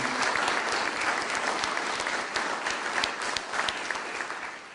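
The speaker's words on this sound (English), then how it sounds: "How about a nice round of applause for those two gentlemen?" A dense round of crowd applause honors two gentlemen completing twelve years of county service, the clapping full and steady throughout with a few crisp individual claps rising above the wash.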